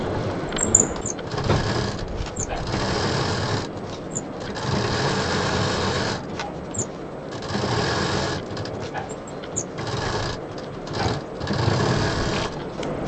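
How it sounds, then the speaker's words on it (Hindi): Sewing machine stitching all four sides of a fabric box organizer with a zip, a steady continuous whir running throughout with brief pauses, fairly close and loud. "अब इसको हमें यहाँ पर सेंटर से सेंटर मिलाते हुए चारों तरफ से सिलाई कर देनी है।"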